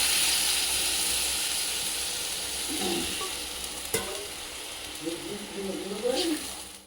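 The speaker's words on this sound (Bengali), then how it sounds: "এখন ঝোলের জন্য জল দিয়ে দিচ্ছি।" Water poured into a pan of cooking duck curry hisses and sizzles steadily, with faint stirring scrapes and a quiet voice talking over the bubbling.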